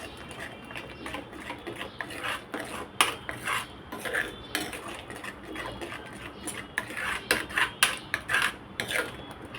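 A spoon mixing turmeric, coriander-cumin powder and red masala in a pan, quick irregular metallic clinks and scrapes close up, occurring in bursts without any talking.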